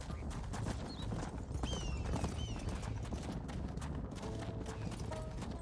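Horses gallop while herding cattle in the Red Dead Redemption video game, with a steady drumming clip-clop of hooves and an occasional whinny over a low, continuous rumble.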